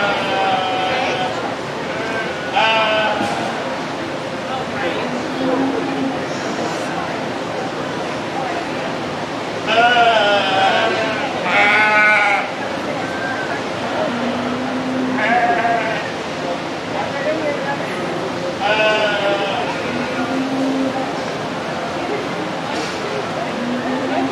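Sheep bleat repeatedly in a livestock show ring, with loud, wavering cries coming every few seconds over a steady hum of crowd noise and talking.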